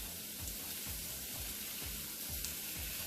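Onions cook in a hot pan with a soft, steady sizzle, quiet and close, with faint repeated low thumps beneath the hiss.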